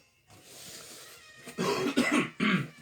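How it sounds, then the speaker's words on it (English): A few harsh coughs close by, three separate bursts in quick succession after a stretch of near quiet. "Cough."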